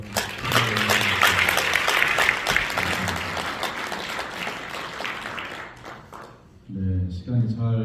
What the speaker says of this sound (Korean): 우리 세 분에게 고마운 박수 다시 한번 부탁드립니다.